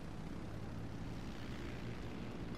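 A big old propeller warplane flying on a single engine after losing the other propeller, heard as a steady, loud, broadband engine drone with low rumble that holds constant throughout.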